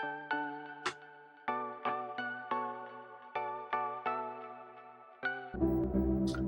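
Simplified synth lead melody for the verses of an EDM pop track made in Ableton, playing a series of clean plucked notes in a smooth phrase, with a denser, buzzier layer entering at the end.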